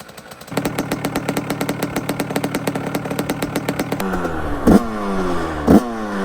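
A small 100cc single-cylinder motorcycle engine starts and putters at a steady, rapid idle close by, then gets two quick throttle blips.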